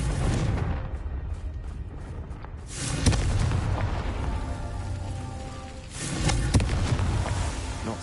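The Confringo fire spell in Hogwarts Legacy goes off as a series of loud booming explosive blasts, with a strong burst near the middle and another toward the end over a rumbling game soundscape.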